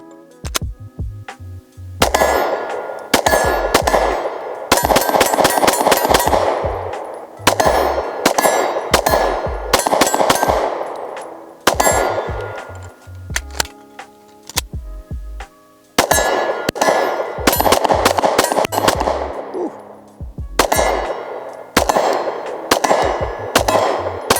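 Bullets from a PSA Dagger pistol ring loudly off a steel target in rapid bursts. Each strike is a bright metallic clang, and the hits come in quick strings separated by short pauses, with no talk.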